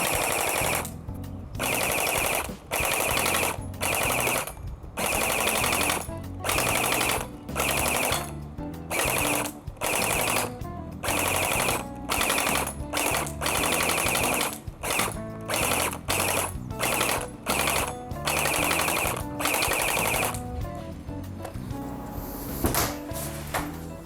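A WeiHui SLR 3.0 gel blaster fires on full auto in loud, rapid mechanical bursts, each a few seconds long and separated by short gaps, very close and alone.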